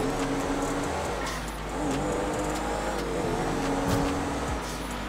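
A car engine in the driving game GTA 5 drones and revs steadily and loudly, close up, for the whole stretch with no break.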